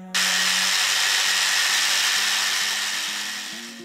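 A loud power tool bites into hard walnut wood, a dense high-pitched grinding roar starting abruptly and holding steady, slowly easing toward the end.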